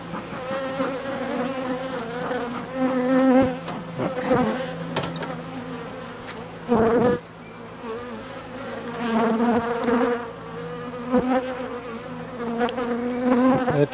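Agitated honeybees swarm around an opened hive, a dense, continuous buzzing drone with individual bees zipping close past the microphone, loud and shifting throughout with no talk.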